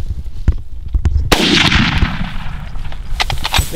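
Rifle shots fired at a Cape buffalo during an African hunt, several loud sharp blasts with one especially heavy report and a long echoing tail, close by, with voices in the background.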